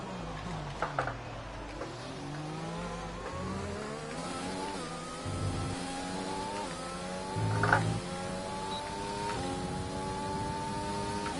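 Engine of an F1 2020 video game race car accelerating out of the pit lane, a steady high whine climbing through repeated gear shifts, loud and continuous with no talk.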